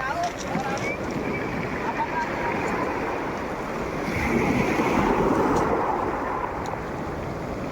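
Big ocean waves roar in a steady, loud wash of surf heard from a boat at sea, with wind buffeting the microphone and a swell that builds midway, plus faint voices.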